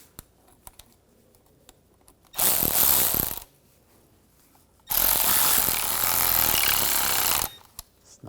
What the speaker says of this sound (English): Tighten these hose clamps down.